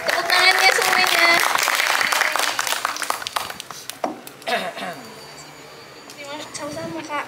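Clapping from a talk show audience as a guest is invited forward, loud at first and then thinning into scattered claps, with voices talking over it.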